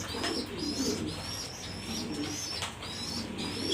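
Pigeons of a fancy breed kept in a loft coo repeatedly at close range, soft rolling calls rising and falling in a steady rhythm with faint chirps mixed in.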